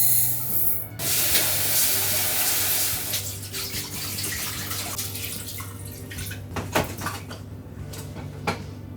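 Water runs from a tap into a pot for a cup of sushi rice, a steady close splashing stream with a sharp start, plus a few knocks and clatters later on.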